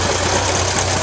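Antique unstyled Farmall Model F20 tractor engine running at an outdoor show of old trucks and tractors, a loud, close, steady low drone with an even pulsing beat, very brief.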